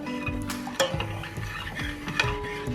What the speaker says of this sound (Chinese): 我们开始小火，然后进行这种搅拌。